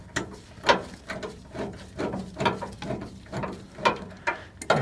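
Socket wrench on an extension ratcheting on the rear shock bolts of a GM OBS truck (Chevy/GMC), a steady run of close, repeated clicking strokes with no voices.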